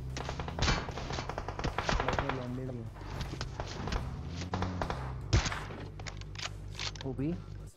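Rapid bursts of M4 rifle fire in the battle-royale game PUBG, sharp repeated cracks of varying loudness across the clip, mixed with game sounds and heard under someone talking.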